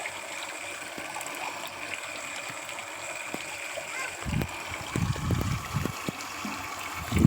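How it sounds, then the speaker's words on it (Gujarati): Water from a drip irrigation filter splashes and trickles into a jerrycan on a farm, a faint steady flow that grows into louder, closer splashing toward the end, with a voice talking over it. "આ જુઓ તમે ફિલ્ટરમાંથી પાણી આવે છે।"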